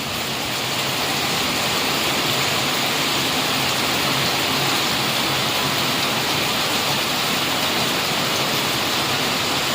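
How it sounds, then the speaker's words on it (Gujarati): Heavy monsoon downpour in a Gujarat village pours down steadily, a dense, loud wash of noise that stays constant throughout with no voices, with water pooling everywhere. "જો કેવો વરસાદ છે જો બધે પાણી પાણી ભરાઈ ગયા"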